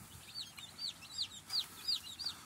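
Newly arrived baby chicks in a brooder give a run of soft, high, repeated peeping chirps, fairly faint and close, with no talking over them.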